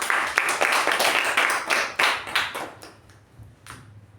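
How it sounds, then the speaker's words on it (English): An audience applauds with dense, steady clapping that gradually thins and fades toward the end. "A round of applause to Toastmaster Deepa and Toastmaster Shuba."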